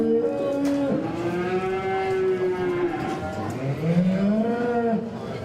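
A cow at a county fair beef show moos repeatedly in long, low, wavering calls, close and loud, with some overlapping lows from other cattle in the ring and barn.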